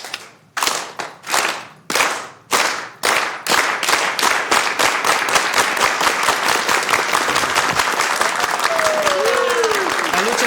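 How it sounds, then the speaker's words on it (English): Audience applause at a city council meeting: a few loud separate claps at first, then building into sustained, dense clapping from a crowd, with a faint whistle toward the end. "And the real way to do a clap for this, everybody knows."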